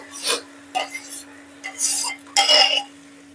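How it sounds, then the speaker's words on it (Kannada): Spoon stirring curd into a smooth paste, a few close clinks and scrapes against the bowl in short separate bursts, quiet and alone. "ಮೊಸರು ನಾವು ಗಂಟು ಇಲ್ಲದೆ ಚೆನ್ನಾಗಿ ಈ ರೀತಿ ಮಿಕ್ಸ್ ಮಾಡ್ಕೊಂಡ್ಬಿಡ್ಬೇಕು"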